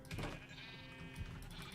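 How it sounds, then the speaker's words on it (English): Sheep in the Minecraft video game bleat close by, a couple of wavering calls over a low steady game background with no talk. "I don't have cows, I have sheep."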